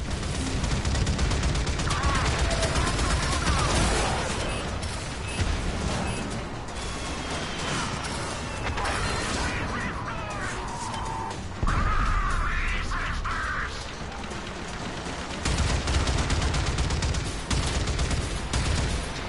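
Bursts of gunfire ring out in a sci-fi shooter set aboard a ship near an airlock, loud and dense, mixed with crashes and game effects throughout.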